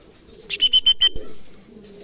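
Racing pigeons returning from a club training flight, a short burst of five rapid bright calls up close, then a soft fading murmur.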